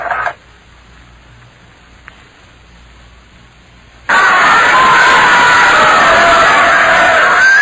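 A huge crowd packs the docks of Plymouth, a dense roar of many voices and cheering that bursts in loud and constant after a quiet opening stretch.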